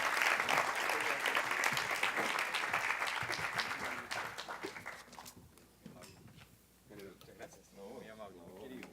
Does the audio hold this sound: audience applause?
yes